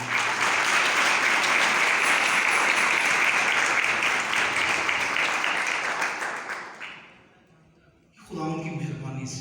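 A congregation at a New Year night church service bursts into loud, sustained applause that rolls on for several seconds, then fades out before a voice resumes speaking.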